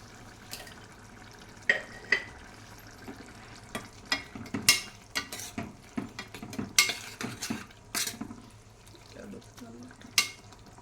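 Salted mung dal masala curry simmers in a pot with soft, irregular bubbling pops and occasional clinks and scrapes of stirring. The sound is quiet and close, with silent stretches between bursts.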